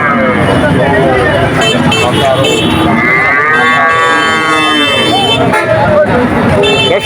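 Cattle moo repeatedly with long, drawn-out lowing calls at the busy Shahpur cattle market, heard close and loud amid crowd chatter and people talking.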